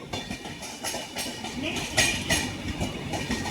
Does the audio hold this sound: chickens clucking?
no